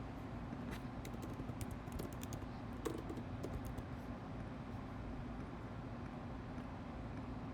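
Light keyboard typing clatters in quick, irregular bursts, faint beneath a steady low hum of background noise that sounds like distant traffic.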